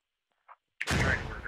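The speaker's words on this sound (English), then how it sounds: "Wavius throwing a frag" Frag grenade in the Squad military video game, a faint click followed by a sudden loud, booming blast that rolls on with a broad rumbling tail.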